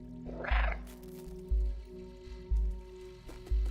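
A cat meows once in the video game Stray, a short mid-pitched call near the start, followed by regular low thumping beats of game music in the background.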